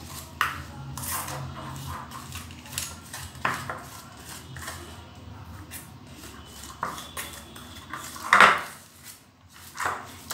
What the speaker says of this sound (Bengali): এবার আমি এটাকে খুব ভালো করে মিশিয়ে নিচ্ছি।